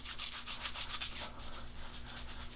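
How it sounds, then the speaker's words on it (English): Fingers rub shaving lather vigorously into a beard without a brush, a soft, continuous, close-up wet scrubbing that pulses quickly and quietly. "Just work that lather right into it vigorously."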